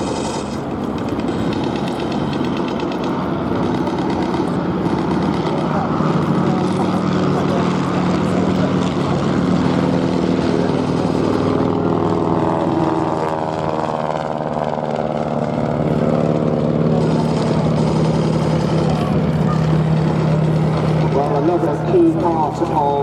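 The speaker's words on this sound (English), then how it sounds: "you really need to look to the Fokker triplane circling high, perhaps endeavouring to dive in on the tail of the two SE-5s" A WW1 Fokker triplane and SE-5 biplanes fly at a Duxford airshow, their piston engines droning and swelling as they circle overhead, under an announcer's continuous commentary over the PA.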